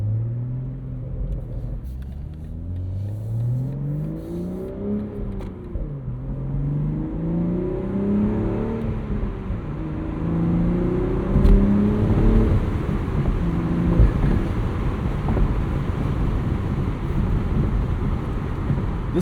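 A 2025 BMW Z4 six-speed manual roadster with the B58 engine revs hard, its loud, close note sweeping up and down through several rising pulls before settling into a steady rumble, with no voices.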